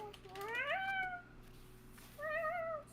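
A cat familiar gives two distinct meows with a soft, ethereal quality, the first rising and longer, the second shorter after a brief pause, set against a low steady hum.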